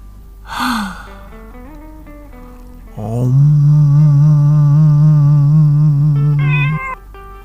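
A cat lets out a short meow, then a long, loud, drawn-out yowl that holds steady for several seconds before rising at the end, close and clear with no voices.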